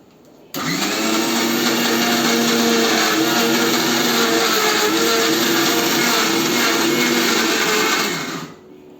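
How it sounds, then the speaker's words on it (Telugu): A mixer grinder whirs loudly as it grinds soaked moong dal with jackfruit seed paste, starting abruptly and running as a steady motor drone for about eight seconds before winding down. "ఆ పెసరపప్పుతో పాటు ఈ పనస గింజల ముద్ద కూడా వేసి మిక్సీలో మిక్సీ తిప్పుకోవాలి."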